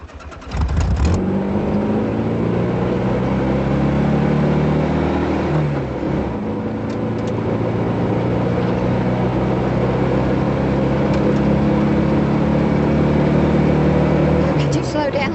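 A car drives along a shoreline road, its engine a steady, loud low drone with shifting pitch as it accelerates, and people talk over it throughout.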